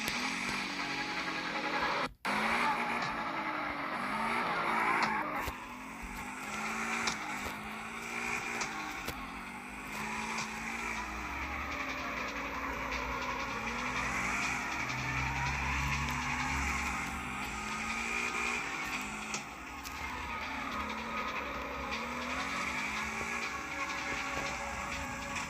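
A Mustang in the street-racing game CarX Street skids around a roundabout, with steady engine drone and repeated tire-squeal sweeps rising and falling over a long continuous stretch, no talk.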